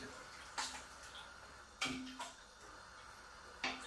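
Raw chicken is washed in salted water, giving a few faint, brief splashes and sloshes at irregular moments over a quiet background.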